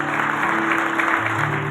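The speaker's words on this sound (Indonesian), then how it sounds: "Beri tepuk tangan dulu saudaraku." Congregation applauding at a Christmas revival service, a steady wash of clapping mixed with a held organ or keyboard chord droning underneath.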